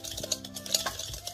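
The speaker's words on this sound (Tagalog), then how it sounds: "i-mix na natin lahat, guys, yung dry ingredients natin" Dry ingredients for low-carb banana bread made without real banana being stirred and mixed in a bowl, a steady close scraping swirl with light clinks of the utensil, no voices.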